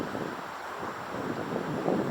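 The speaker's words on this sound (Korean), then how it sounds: "보시는 것처럼 맞바람이 불고 있고" A steady headwind buffets the microphone at a freshwater fishing spot, a constant broad rushing roar with slight surges and no voices.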